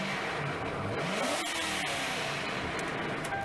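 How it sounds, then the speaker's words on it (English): The engine of a Mercury Marauder with upper valve noise runs at an auction preview, a steady, close mechanical drone with a light ticking clatter on top and a few brief revs. "he's got a little upper engine noise. You can hear it, valve noise."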